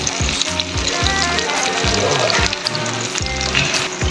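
Onions frying in a pan for ginataang papaya with squid, giving a loud, continuous sizzle, with repeated low scraping and stirring strokes at a steady rhythm close by.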